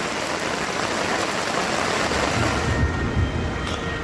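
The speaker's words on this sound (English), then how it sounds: "The rain is falling straight through this thing." Steady rain pours through a vehicle shelter at a camp in hot, stormy weather, a dense broadband hiss with low rumbling patter, continuous and close, with no talking.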